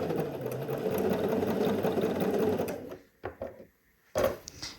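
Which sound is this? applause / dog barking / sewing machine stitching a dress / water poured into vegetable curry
sewing machine stitching a dress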